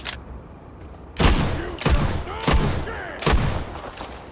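Gunfire in the video game Starfield: a burst of several heavy, loud shots in quick succession, each with a sharp crack and booming tail, following a brief quieter lead-in.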